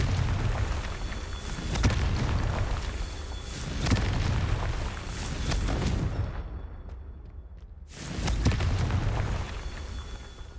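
Confringo blasting curse explosions in Hogwarts Legacy, several heavy booming blasts with rumbling low-end tails arriving in succession, loud and close, broken by a brief near-silent gap before a final burst.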